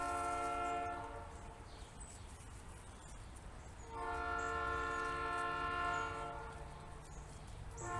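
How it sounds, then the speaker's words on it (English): A train passes at a distance, its horn sounding in two long blasts over a steady rumble of rolling cars. "Train noise."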